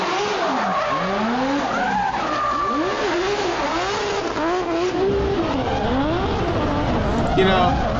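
A drifting car squeals its tires continuously through mountain roads as the engine revs rise and fall, loud and close throughout.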